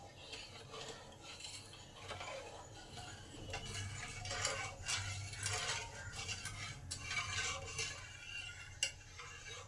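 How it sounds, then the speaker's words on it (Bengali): A spoon scrapes and clinks continuously in a pan of thickening guava jelly cooking over high heat, soft and close with irregular rhythmic ticks, and no voices. "এবার এটাকে কন্টিনিউ নেড়ে নেড়ে থকথক একটা করে নিতে হবে"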